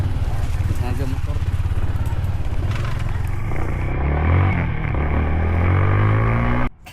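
A motorcycle engine runs steadily up close while riding, its drone rising and shifting in pitch over several seconds before cutting off abruptly near the end, with voices over it.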